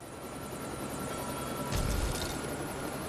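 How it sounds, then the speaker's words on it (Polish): A helicopter in the video game LEGO City Undercover gives off a steady, loud rotor drone with a brief swell partway through, no voices over it. "You can fly a helicopter?"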